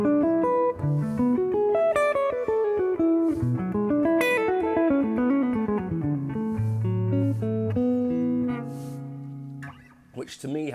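An electric guitar plays intervallic, open, modern-sounding arpeggios drawn from the major scale, a rapid stream of picked notes with wide leaps, descending into sustained low tones before a brief noisy scrape at the end.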